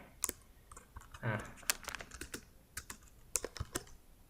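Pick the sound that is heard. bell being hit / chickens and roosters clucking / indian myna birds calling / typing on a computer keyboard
typing on a computer keyboard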